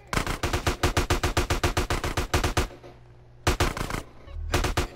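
Rapid automatic gunfire in GTA San Andreas, loud bursts of evenly spaced shots, a pause, then two more short volleys.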